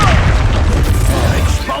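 A Confringo fire spell bursts in a Hogwarts Legacy battle as a loud, rumbling boom with a sustained roar that fills the moment, heavy low-end blast mixed with shouted spell voices.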